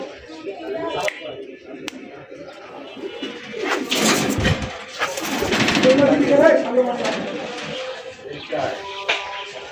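Red rajgolla pigeons coo in soft, repeated throaty calls close by, heard beneath and between someone talking.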